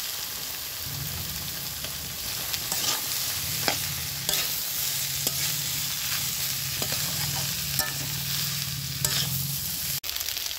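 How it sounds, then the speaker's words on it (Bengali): Potatoes and ghetkol stems frying in a spice paste in a pan, a steady close sizzle with repeated scraping stir strokes throughout and no talk. "এবার আলু আর ঘ্যাটকলের ডাঁটা এর মধ্যে দিয়ে দিচ্ছি।"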